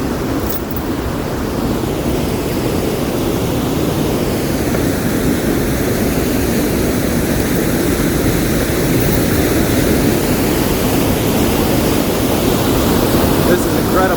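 A natural waterfall in a national forest, heard as a constant loud rushing roar of falling water that stays even and unbroken throughout, with no talking over it.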